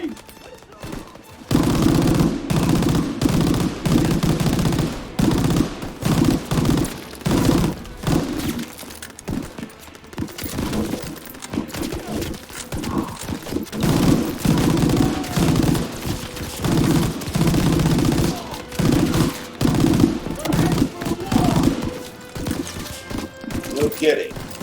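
Heavy machine-gun fire in Call of Duty WWII rattles in long, loud bursts mixed with battle rumble and explosions, while soldiers shout over the din.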